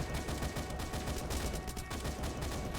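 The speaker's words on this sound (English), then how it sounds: "It's a bit slow on the uptake, our gun, but don't you worry about that." Rapid automatic gunfire from a weapon in the video game Starbound, a dense continuous stream of sharp shots filling nearly three seconds, loud and up close with no pauses.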